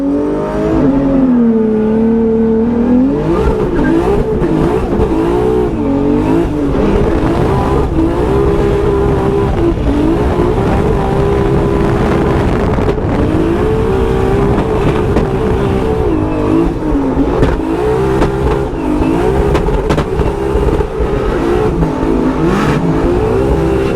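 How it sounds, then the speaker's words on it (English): A Formula Drift car on nitrous accelerates hard around a banked track, its loud engine revving and shifting pitch continuously through the whole stretch, close and dominant with no talk. "This car feels so much better on nitrous"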